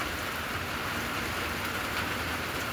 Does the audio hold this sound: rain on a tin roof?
yes